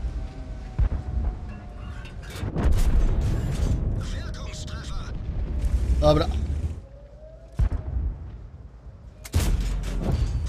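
Tank cannon fire in the World of Tanks video game, with the VK 45.03 tank in play: a few heavy booms with rumbling tails spread across the clip, among quieter engine and battlefield noise.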